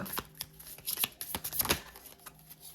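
Oracle cards being shuffled during a love reading, a run of quick papery riffles and soft card snaps at close range, irregular in rhythm and with no talking.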